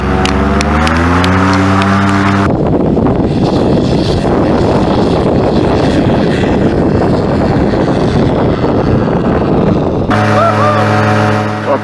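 A paramotor engine keeps running on a beach during a power-off landing and relaunch in a sea breeze, a loud steady droning roar with heavy wind buffeting, broken at start and end by a higher rising motor whine.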